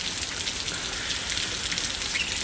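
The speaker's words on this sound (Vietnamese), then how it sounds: "mưa rơi tí tét" Steady, dense rain hammering down in a continuous hiss of patter in the San Antonio, Texas area, loud and close with no voices.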